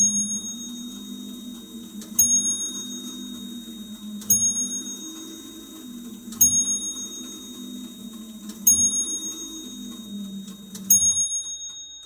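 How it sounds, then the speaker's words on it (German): A small baroque Viennese Tobias Tretsch table clock with chinoiserie painting strikes its bell in five evenly spaced bright rings about two seconds apart, each decaying over a low steady hum. "Sie verfügt über einen Halbstundenschlag, schlägt auf Glocken"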